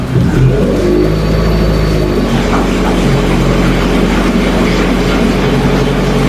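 A Toyota Corona race car with a swapped 3S engine fires and revs, a loud, steady engine roar filling the whole stretch with rising and falling revs and no talk over it.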